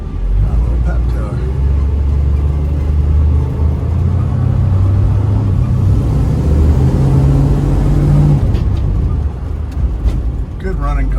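A 1971 Dodge Charger R/T with a 440 Magnum V8 rumbles steadily up close on a test drive, a deep continuous engine drone with slight surges in pitch, heard under occasional talk inside the car.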